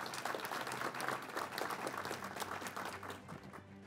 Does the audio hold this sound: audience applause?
yes